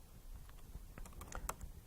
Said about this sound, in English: I can just start typing with a keyword that I've prepared.